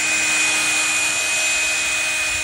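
A dull drill bit grinds through material while building a go-kart, a loud, steady, high whine with a constant tone and no pauses or voices.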